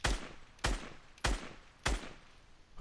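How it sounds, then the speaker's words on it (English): A SCAR assault rifle in Fortnite fires four loud, evenly spaced single shots, each a sharp crack with a short decaying tail, with no voices. "So first, with the SCAR, your normal assault rifle."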